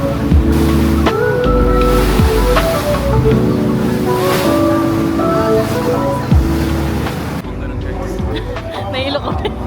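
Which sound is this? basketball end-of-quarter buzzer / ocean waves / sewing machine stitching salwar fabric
ocean waves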